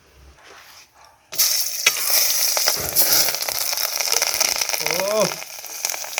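Nigella seeds and slit chillies dropped into hot oil for a katla fish curry, a sudden loud sizzle that keeps crackling steadily, with a brief voice near the end.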